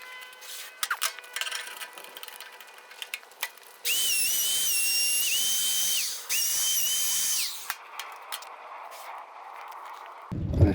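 A power tool bevels the top piece of a small DIY trophy, starting with scattered knocks and handling sounds, then a loud high-pitched whining grind in two long close bursts, followed by a quieter lingering hum and a thump at the end.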